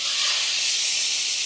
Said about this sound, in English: Once we take the lid off, those burgers should be sizzling.